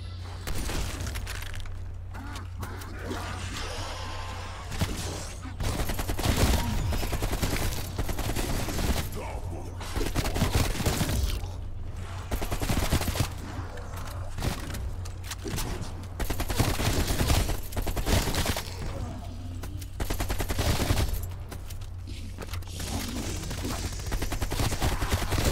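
Rapid gunfire bursts and sniper rifle shots from Call of Duty: Cold War Zombies, loud and repeated throughout with clattering impacts, and a faint voice talking underneath.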